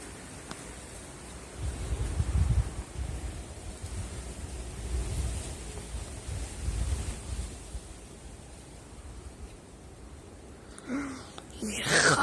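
Violent wind gusts buffeting the microphone outdoors in Nîmes, low rumbling surges that rise and fall over several seconds, with a louder burst near the end.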